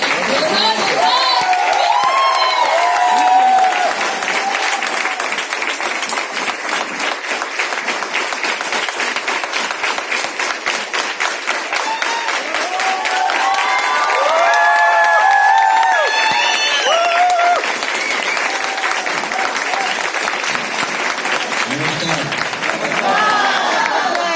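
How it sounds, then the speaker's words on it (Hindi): An audience at a distributor training event in Thane claps and cheers, the applause rolling loud and near in swelling waves with a few shouts and a voice speaking over it. "तो अपनी जोरदार तालियों के साथ मैं आलोक सर को माइक हैंड ओवर करना चाहूंगी."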